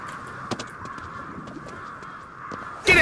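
Crows cawing at a shrine rooftop in GhostWire: Tokyo, several harsh caws scattered over a steady ambient game hum, followed by a sudden louder burst at the end.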